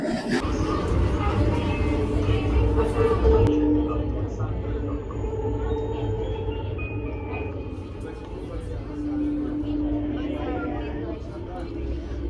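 The low, continuous rumble and rattle of a Mumbai Metro train in motion, with voices talking over the steady roar.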